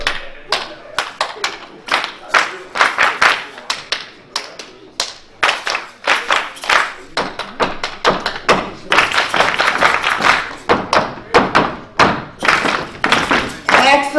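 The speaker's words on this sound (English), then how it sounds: "I'm just going to ask you to follow the clap rhythm" Storytelling festival audience clapping together in a steady repeated rhythm, many hands producing loud, close, crisp claps in patterned bursts, with a voice speaking between them.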